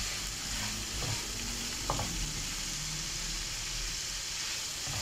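Green peppers sizzle and fry with Alexandrian-style liver in a pan, a steady close hiss with light stirring scrapes and a brief clink near the middle, no voices.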